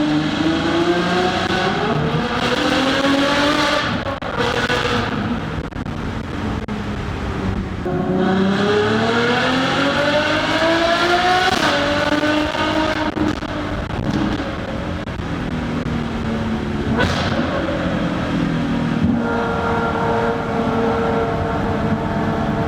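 A Ferrari F12 Berlinetta's V12 engine revs loud and close while driving through a tunnel, pitch rising and falling through repeated acceleration and gear changes, with no talking.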